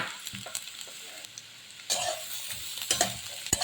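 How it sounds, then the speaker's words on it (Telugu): Ginger pieces sizzle and crackle in hot oil in a kadai for a mango-ginger pickle, with bursts of frying and stirring scrapes up close, growing louder toward the end, and no talking. "ఆయిల్ హీట్ అయింది ఇప్పుడు ముక్కలు వేసేస్తాను ఇది కొంచెం ఫ్రై చేస్తాను"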